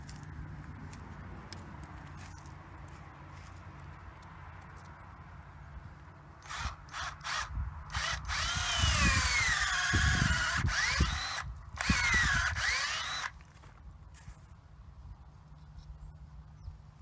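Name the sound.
power drill boring tap hole in a maple tree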